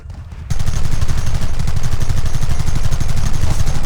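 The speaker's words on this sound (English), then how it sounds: "There they are! Open fire!" Sustained rapid gunfire in the Western video game Red Dead Redemption, a loud dense volley of overlapping shots that erupts after a brief quieter lead-in and continues without pause.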